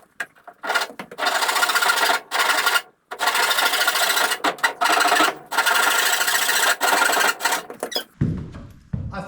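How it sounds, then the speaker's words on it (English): Handsaw cutting along a wooden edge during boat building, a series of steady back-and-forth rasping strokes with brief pauses between bursts, loud and close, ending with a short quieter knock. "I need to trim this edge up now to get it perfectly straight. So I'm going to do that with a good old trusty handsaw."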